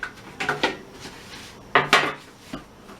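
Metal baking pans clatter and scrape as they are picked up and set down for macarons, a few sharp clanks in bursts with quiet gaps between.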